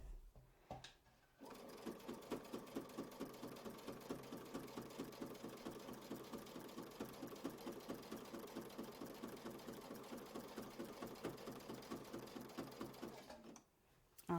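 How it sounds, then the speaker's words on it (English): Sewing machine stitching a quilt block, a steady rapid rhythmic chatter running continuously for about twelve seconds, close and even, starting and stopping abruptly. "And we're going to sew down to that point."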